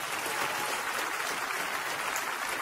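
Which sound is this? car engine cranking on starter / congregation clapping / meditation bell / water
congregation clapping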